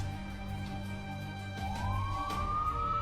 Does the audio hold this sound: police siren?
yes